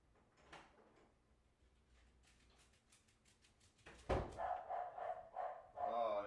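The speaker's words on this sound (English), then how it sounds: "Oh, and Caroline is barking a whole bunch." A dog barks in a home, several sharp loud barks clustered near the end after quieter muffled sounds and a voice speaking.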